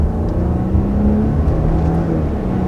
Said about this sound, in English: We now have a turbocharged 3-liter V6 engine.